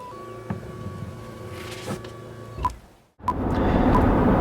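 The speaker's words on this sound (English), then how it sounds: "there is a power rear seats that by the push of a couple buttons, you can lower them and raise them" Power rear seats in a Nissan Armada SUV whir steadily under a faint motor hum, pause with a brief click, then a louder broadband mechanical drone starts up and continues to the end.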